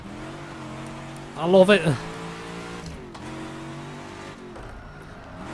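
An AC Cobra 427 racing engine in the rFactor 2 sim holds a steady drone, then revs sharply in one loud burst before settling again, with someone commentating over it.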